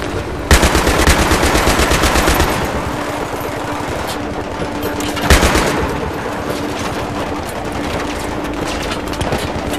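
Sustained automatic gunfire from the video game Battlefield 3, loud and continuous with rapid bursts, two sharp louder shots standing out, and no talking over it.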